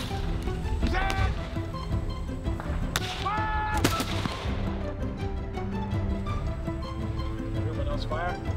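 Muskets from an 18th-century line fire together in sharp cracks amid shouted commands and voices, with further scattered reports ringing out over the outdoor field.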